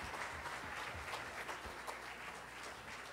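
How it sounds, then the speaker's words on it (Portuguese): A church congregation at a Sunday evening celebration claps for the children and their teachers, a faint, steady patter of applause with no voices on top. "Vamos dar nossas palmas para as crianças e para os professores."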